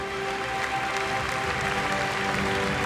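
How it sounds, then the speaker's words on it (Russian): An audience at a patriotic forum award ceremony applauds the laureates, a sustained, dense wash of clapping that holds steady and fairly loud from start to finish. "эти аплодисменты для вас"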